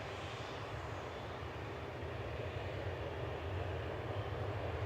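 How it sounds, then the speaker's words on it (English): An EasyJet jet landing at Manchester Airport, arriving from Jersey, gives a steady, broad engine roar that holds at an even level and swells slightly toward the end. "EasyJet landing there from Jersey"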